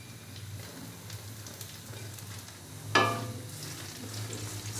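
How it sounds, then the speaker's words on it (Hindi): Chopped green chillies added to sizzling ginger garlic paste in a pan while cooking biryani, with a soft steady fry that jumps to a louder, crackling hiss as they hit the hot oil, close and without talk. "तो अभी मैं इसके अंदर डालूंगा सब्ज़ मिर्चें"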